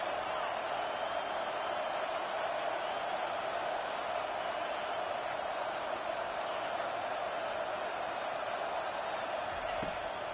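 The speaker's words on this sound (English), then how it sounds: "decibels rising as the crowd gets behind this defense on third down" A football stadium crowd roaring during a USC game on a third-down defensive play: a dense, steady wall of noise that holds at an even level throughout, loud and enveloping.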